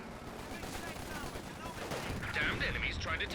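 A battle in Company of Heroes 2 with a cannon bomb explosion and gunfire: continuous rattling small-arms fire and rumbling blasts, a brighter burst of shots toward the end, with a commentator talking over it.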